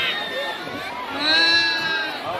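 A schoolchild in a classroom voices a cow's moo and footsteps, a drawn-out wavering vocal imitation that rises in the middle, with faint classroom noise behind.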